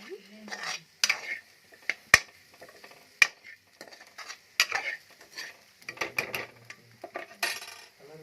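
A spoon stirs and scrapes ingredients frying in a pan, giving irregular clinks and scraping strokes with pauses between them and a faint sizzle underneath, close and fairly quiet.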